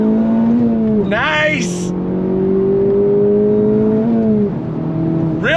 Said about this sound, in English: I'm gonna bring it down to about second gear, and then we're gonna go on throttle.